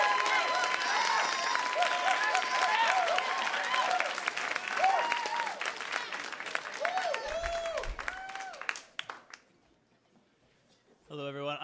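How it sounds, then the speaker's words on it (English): An audience claps and cheers at a live storytelling event as the next storyteller is welcomed, with sustained applause and voices talking over it before it dies away. "let's get a big round of applause for our next story by Jeff Clune."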